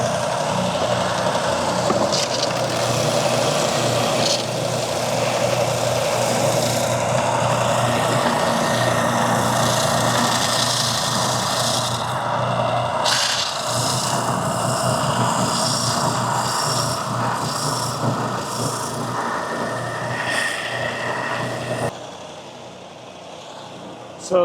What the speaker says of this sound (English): because this oscillates up and down, we're sanding on a different spot all the time